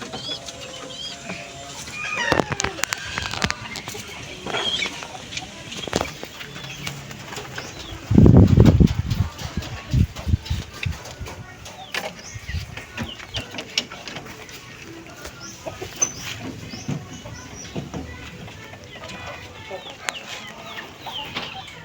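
Pigeons from Taiwan breeders coo and flutter nearby in a loft, with low throaty calls, a burst of wing flapping, and scattered clicks, while people talk intermittently.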